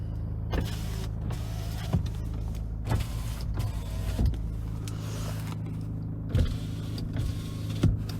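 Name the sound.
electric windows operating on 2016 Nissan Navara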